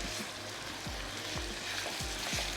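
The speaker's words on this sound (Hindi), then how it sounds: "चला गया इसमें कीमा। थोड़ा सा हम इसको भून लेंगे" Minced meat sizzles in a pan with a dense, steady frying hiss, broken by a few rhythmic scraping stirs at regular intervals, close up and without talk.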